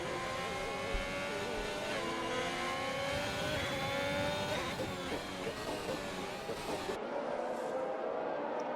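A Ferrari race car in a sim racing game, engine revving high with rising and falling tones through gear changes, loud and continuous, then cutting to quieter sound near the end, with no talk.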